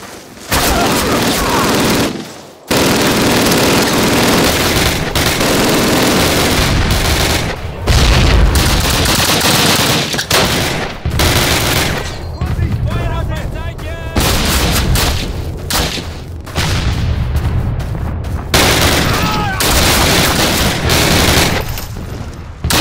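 Sustained MG-42 machine gun fire and heavy gunfire bursts in the Call of Duty WWII battle at Brecourt Manor, loud and continuous with dense rattling volleys and booms, soldiers shouting over the din.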